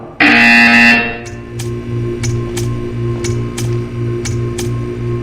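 A buzzer in the video game Portal 2 sounds once, loud and harsh for about a second, followed by a steady mechanical hum with a regular ticking pulse, with no talk.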